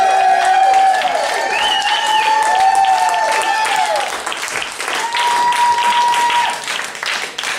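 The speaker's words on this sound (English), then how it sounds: "Give him a big round of applause" Comedy club audience gives a sustained round of applause and cheering for a young comic on his 18th birthday, with whoops and voices over the clapping throughout.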